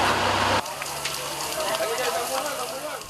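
A house fire burns in a narrow residential alley, giving a continuous crackling roar with scattered pops, steady and moderately close, after a brief louder burst at the start.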